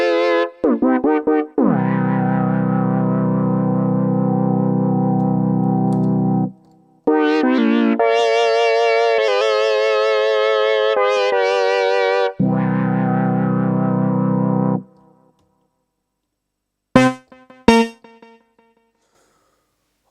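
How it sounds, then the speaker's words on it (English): Moog Minimoog Voyager synthesizer played through a Roland RE-20 Space Echo pedal: loud sustained harmonic notes and bright swelling tones in several phrases with short gaps, ending in a few sharp plucked blips and echoing tails, no talking. "I love to combine this with the Roland RE20, the Space Echo pedal from Roland"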